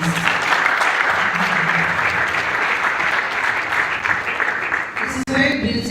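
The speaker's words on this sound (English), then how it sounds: "Can we please have a round of applause for our panelists?" A conference audience at the NACOS Tech Fusion 2025 event gives its panelists a sustained round of applause, a loud, even roar of clapping that runs throughout, with a voice and microphone noise coming in near the end.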